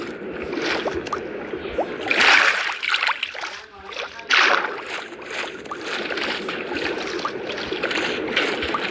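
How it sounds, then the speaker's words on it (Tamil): Splashing water from swimming in the Minecraft video game, continuous watery churning and gurgles with a couple of louder splashes, steady throughout with faint background voices. "தண்ணிக்குள்ளே நீந்துறதே ஒரு சந்தோஷம்."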